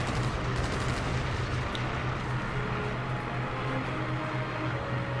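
Rear gunner of a plane in the Wings of War video game firing steadily at enemy aircraft, a dense continuous rattle of gunfire over a low droning engine hum, with no speech.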